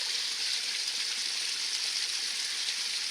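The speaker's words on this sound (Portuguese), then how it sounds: "o riozinho formado pelo regime de chuvas" Small rain-fed stream at the foot of the Serra dos Órgãos in the Atlantic Forest of northern Rio de Janeiro state, a steady close rush of flowing water, hissing and even throughout, with no voices.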